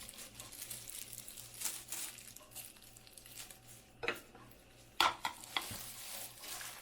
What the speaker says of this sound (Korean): 그래서 버무리겠습니다